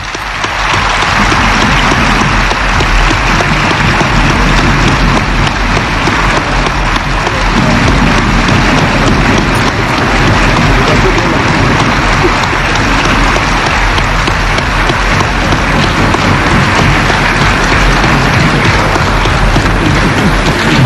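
Loud, sustained applause by acclamation fills the hall at Chad's 1993 Sovereign National Conference, a thick continuous roar of many hands clapping at once for about twenty seconds, close and unbroken.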